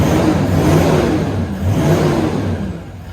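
Toyota Land Cruiser 200 series engine revving through a DPF-back exhaust on a cold start, two rising and falling revs with a muffled low rumble, close and loud.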